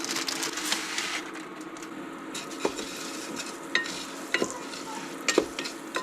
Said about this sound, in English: we're going to saute this rice